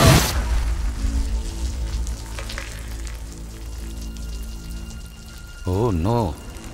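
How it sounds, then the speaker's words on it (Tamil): Heavy water pouring and rushing down during a flood, a continuous broadband splashing roar that runs under dramatic music and a brief shout near the end. "இவ்வளவு தண்ணி கொட்டுது?"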